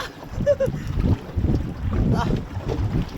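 Strong wind gusting at sea during a fishing trip on a small boat, buffeting the microphone as a steady rumble with surges, while someone talks intermittently over it.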